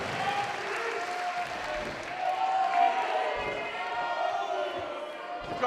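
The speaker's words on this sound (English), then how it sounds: "And listen to this crowd react for Matty Wahlberg." A large wrestling crowd at a PWA Colosseum 2019 show applauds and cheers in a sustained, roaring wash with scattered shouts, steady throughout with a few swells.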